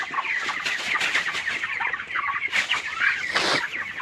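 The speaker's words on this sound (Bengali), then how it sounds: "এই মুরগিটা দেখুন," Broiler chickens on a poultry farm cluck and chatter together, a busy overlapping flock sound with a few louder calls standing out close by, and no voices.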